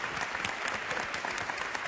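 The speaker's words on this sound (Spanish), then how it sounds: "Creo que se merecen un aplauso estas dos plusmarquistas cordobesas." Studio audience applauds on a 1980 Spanish television show, a dense, continuous burst of many hands clapping at moderate volume and heard without speech.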